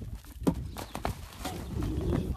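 A horse trots in a played-back clip, heard as a few uneven hoof clip-clops mixed with rustling and a brief voice-like sound, fairly close and moderate in level.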